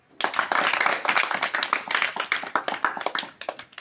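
Hand clapping at an audition held in a home setting, a dense run of sharp, close claps at an uneven rhythm, loud and steady for a few seconds, with no talking over it.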